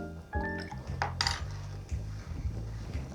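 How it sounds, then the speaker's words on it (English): The back of a metal bar spoon knocks at a large ice cube in a glass while an Old Fashioned is made, giving a few quiet, close clinks and taps with short pauses between them. "these pieces of ice are pretty big, so I'm going to try to break this into a smaller piece using the back of my bar spoon"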